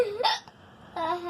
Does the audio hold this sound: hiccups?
yes